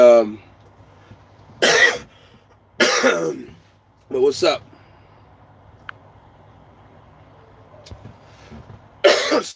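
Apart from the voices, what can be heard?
cough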